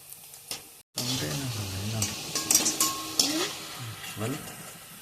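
Lote fish chops frying in oil at low to medium flame, a soft sizzle with stirring and clinks of a utensil against the pan, while someone talks over it.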